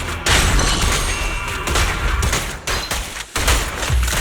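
Dense bursts of video game gunfire crackle in rapid volleys, loud and close, with brief gaps between the fusillades.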